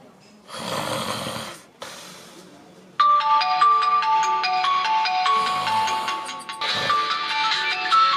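A melodic phone ringtone starts suddenly and plays loudly and continuously, following a couple of heavy snoring breaths.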